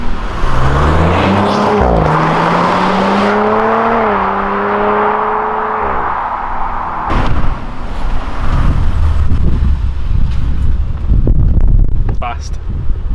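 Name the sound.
Audi RS5 coupe accelerating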